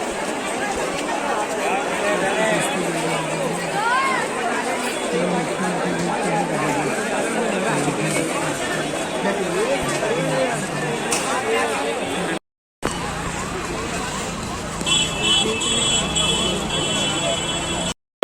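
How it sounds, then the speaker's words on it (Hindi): A dense, busy crowd packs a Delhi clothing market in the Diwali season, with steady overlapping chatter and hubbub filling the space close by, briefly cut out once near the end. "भाई यहाँ पे इतनी ज़्यादा भीड़ है ना कि वीडियो बना पाना बहुत मुश्किल है यहाँ पे।"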